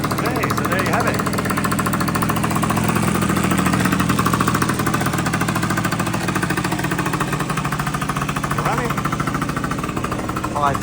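An Aprilia Habana 50 scooter fitted with a 70cc big bore kit and an electric fuel pump runs at a steady idle close by. The engine chugs loudly and continuously with an even, pulsing rhythm throughout.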